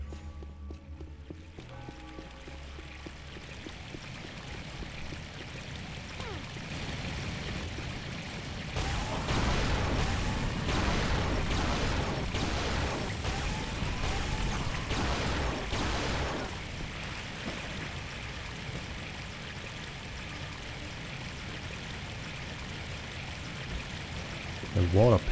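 Flowing water rushing through a stone passage in the Unreal video game, a steady broad wash that swells louder in the middle and then settles back to a softer trickle.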